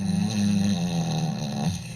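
A voice imitates a deep snore, a close, sustained low rumbling rasp lasting under two seconds before trailing off.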